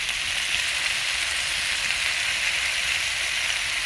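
Onion paste sizzles in hot oil for a Bengali village-style curry of green banana, koi fish and potato. The hiss is steady and continuous, fairly close, with no voices.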